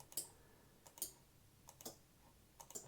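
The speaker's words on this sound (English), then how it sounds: "you can hear the clicking going on at the same time, and that's these little relays clicking as we activate them" Small relays switched on and off by a Raspberry Pi click faintly in a quiet room, a few sharp, separate ticks spaced irregularly across a few seconds.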